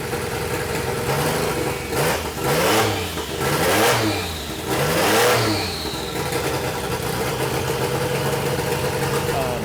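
A twin-turbo Andial Porsche 935L race engine idles roughly and blips through three or four sharp revs that climb and drop, then settles back to a loud, close, burbling idle.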